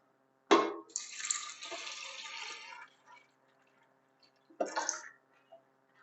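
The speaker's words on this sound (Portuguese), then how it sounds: "Vou colocar em média 500 ml de água já filtrada nesse amendoim que já ficou aí de molho" Filtered water poured over soaked peanuts in a container, a sharp splash followed by a steady pour lasting about two seconds, then a brief second splash after a pause, close and fairly loud.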